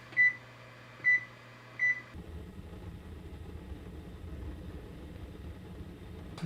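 A propane oven fires up during a test run after cleaning: three short electronic beeps come first, then a steady low roar and hiss of the running oven carries on alone at moderate level.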